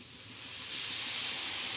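A hissing sizzle close by as water is poured onto a hot griddle of frying Bombay duck fish, swelling after a brief moment and then holding steady and loud, with no voices.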